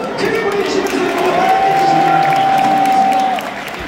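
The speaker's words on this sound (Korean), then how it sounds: "박수 한번 크게 보내주시면서 응원" A stadium crowd at a baseball season-opener applauds and cheers steadily and loudly for several seconds, with a sustained whistle-like tone over the roar before it eases slightly at the end.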